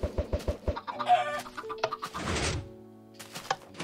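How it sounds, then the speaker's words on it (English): Minecraft chickens cluck and squawk in quick bursts, with a few hollow thunks and a short rustly burst in the middle, close and fairly clear. "Even the chickens are amazed."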